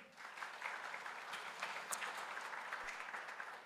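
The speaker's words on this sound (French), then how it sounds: "Madame Sandra Rousseau, que je vous demande d'applaudir." Audience applause at an in-person panel presentation on women's entrepreneurial leadership, a steady, moderately distant wash of clapping that holds evenly throughout.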